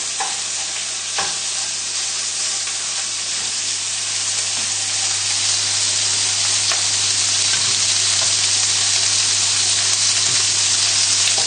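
Bacon and mushrooms frying in oil in a pan, a loud continuous close sizzle with steady hiss and the repeated scrape of stirring throughout, no voices and a low steady hum beneath.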